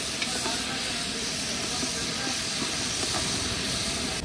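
Garlic sizzles in very hot ghee in a restaurant-style Lahori chole recipe, a steady loud frying hiss throughout with a voice faintly under it.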